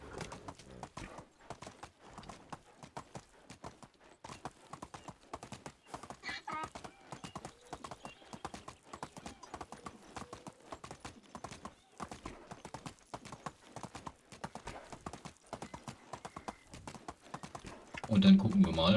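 Horse hooves clip-clop in steady repeated beats with an occasional whinny in the medieval farming game Medieval Dynasty, where two foals have been bought; a voice talks throughout, and the sound ends in a louder burst.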